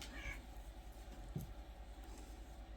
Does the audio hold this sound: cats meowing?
yes